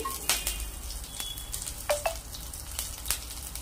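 Bay leaf, cloves, cardamom and green chillies fry in hot oil, giving a steady close sizzle with a few sharp crackles and pops.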